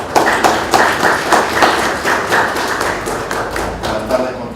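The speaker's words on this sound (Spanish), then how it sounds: "Un fuerte aplauso." Applause at an environmental research conference after a presentation is introduced, loud close hand claps in an uneven rhythmic patter, fairly sparse, with no talk over them.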